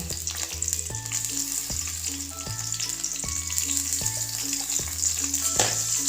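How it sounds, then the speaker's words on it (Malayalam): Crushed ginger, green chilli and onion fry in a pan for an egg curry, giving a loud, continuous sizzle that stays steady throughout, with no talking. "നമ്മൾ നേരത്തെ ചതച്ച് വെച്ചില്ലേ ഇഞ്ചിയും പച്ചമുളകും ഉള്ളിയൊക്കെ ചട്ടിയിലേക്ക് ഇട്ടോ."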